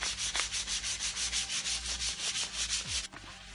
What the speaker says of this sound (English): I'm going to go ahead and go straight to an 800 grit now.